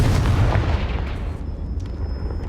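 A Confringo fire spell bursts in the video game Hogwarts Legacy, a loud, dense blast with booming low rumble that fades over a couple of seconds, without speech.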